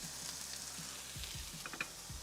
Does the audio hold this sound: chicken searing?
yes